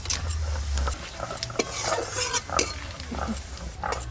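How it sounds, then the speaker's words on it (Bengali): Bay leaf, dried red chilli and whole cumin crackling in hot mustard oil for chicken kosha: a soft continuous sizzle with light spoon clinks and stirring against the pan, no speech. "আজকে রান্নাতে ফোড়নে দেব তেজপাতা, শুকনো লঙ্কা আর গোটা জিরে"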